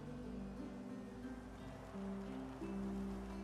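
Ocean waves wash in a steady, soft surf ambience from the Divinity Original Sin 2 video game, faint and continuous, with low sustained tones running beneath the water sound.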